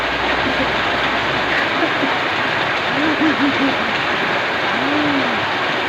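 Heavy rain falling steadily outdoors, a dense continuous hiss close by with people talking over it.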